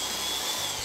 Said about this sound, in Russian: вращается сверло